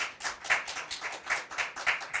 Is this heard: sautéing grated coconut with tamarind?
no